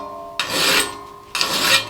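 A steel file rasps across hardfacing weld on a ripper tooth in two short forward strokes, harsh and scratchy, close and fairly quiet, with a brief pause between strokes.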